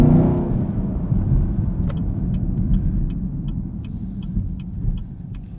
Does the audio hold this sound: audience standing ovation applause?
no